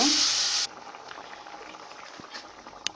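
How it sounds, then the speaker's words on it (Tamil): A brief loud hiss of water poured into a hot pot of potato curry, followed by a low, steady bubbling simmer with occasional small pops. "ஒரு கொதி விடுங்க"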